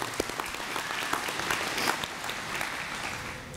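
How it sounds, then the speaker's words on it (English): Applause from the audience at a rural electric cooperative's annual meeting, a steady wash of many hands clapping at moderate volume throughout, with no talk over it. "Give her a round of applause anyway."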